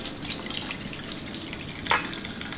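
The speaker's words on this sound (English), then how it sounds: "I'm going to pour this juice here." Radish juice drawn out of cubed radish kimchi (kkakdugi) being poured from a bowl, a soft continuous trickle and splash with a brief louder splash near the end.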